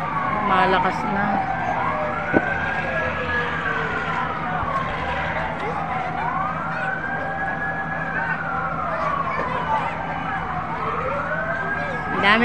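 Several fire truck sirens wail at once at a fire in Navotas City, their rising and falling tones overlapping continuously at mid distance over street noise, with people talking throughout.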